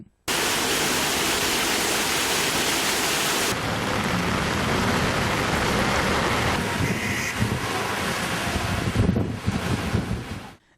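Heavy, unbroken rain pours down in Nellore during a deep depression, a dense loud hiss with a sudden shift in texture partway through, steady until it cuts off at the end.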